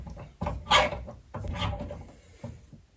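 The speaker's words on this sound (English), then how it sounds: "just grind the inside of the tap away, create a nice seat for that washer to sit back down on" A tap reseating tool grinds inside a tap body to recut the washer seat, making repeated rasping, gritty scrapes in a back-and-forth rhythm, close and fairly loud.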